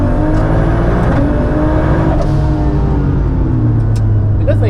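800hp Toyota Supra MKIV with a ZF8 gearbox on the Nürburgring, its engine droning loud and close from inside the car as revs climb and drop through gear changes, with road and wind roar underneath.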